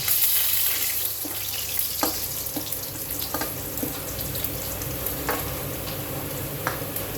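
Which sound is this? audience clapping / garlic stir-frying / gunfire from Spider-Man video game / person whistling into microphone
garlic stir-frying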